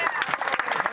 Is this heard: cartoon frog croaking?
no